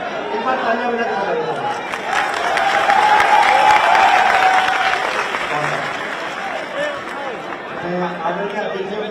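Audience applause and clapping rises through the crowd at a speech event, a steady dense patter swelling in the middle while voices and chatter carry over it.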